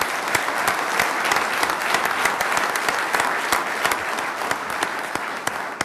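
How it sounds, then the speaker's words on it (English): A workshop audience on hunting and fishing applauds a panel with steady, dense clapping from many hands that lasts throughout, close and fairly loud, with no talk over it. "Let's give them a round of applause, please."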